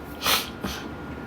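One sharp, breathy cough bursts out, followed by a softer short exhale, close and alone.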